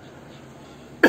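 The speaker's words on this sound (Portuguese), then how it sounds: "a Covid me deixou com essa tosse" A single harsh cough from a woman left with a lingering cough after Covid, bursting out loud at the very end after about a second of quiet room tone.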